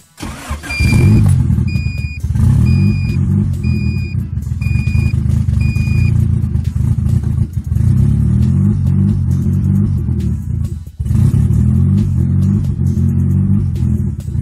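A turbo Honda D16Z6 engine cranks and fires, then runs loud and close at an unsteady idle that bounces up and down. A repeating electronic chime beeps over the engine for the first few seconds.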